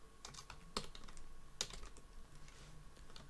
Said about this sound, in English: so we need to type operator.